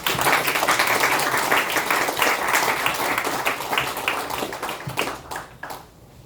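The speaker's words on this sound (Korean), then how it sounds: "여러분 이분들을 위해서 하나님께 영광을 돌리면서 영광의 박수 한번 드리겠습니다" A church congregation applauds during a thanksgiving worship service marking a seafarers' mission anniversary, a dense steady wash of clapping that gradually thins and fades out toward the end.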